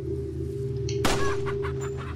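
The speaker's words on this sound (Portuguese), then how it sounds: "As galinhas tá louca, velho." Chickens in the video game Resident Evil 4 cluck and squawk over a steady low game hum, with one loud sharp flutter or squawk midway and more clucks after it.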